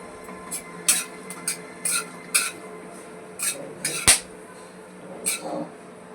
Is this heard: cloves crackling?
yes